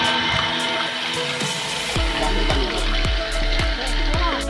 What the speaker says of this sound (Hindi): नाला में पानी जा रहा है।